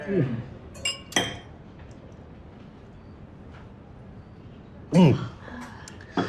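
Glasses clinking together in a toast at a dinner table, a couple of bright chinks near the start and another burst toward the end, with voices speaking around them over a quiet room background.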